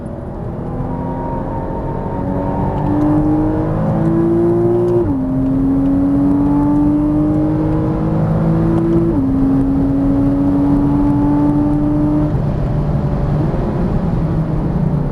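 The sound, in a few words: Porsche Cayman S engine shifting gears on track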